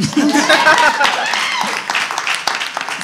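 Audience clapping at a science pub talk, a burst of applause mixed with voices and a little laughter, loud at first then thinning out.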